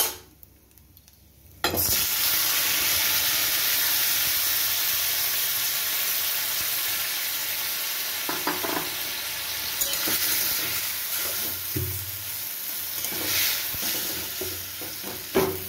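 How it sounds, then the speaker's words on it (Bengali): A short quiet moment, then a loud burst of sizzling as tomatoes drop into hot oil with fried mustard seeds, settling into steady frying with occasional stirring. "এবার আমি এর মধ্যে টমেটোটা দিয়ে দিচ্ছি।"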